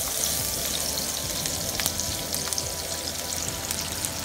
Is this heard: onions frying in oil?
yes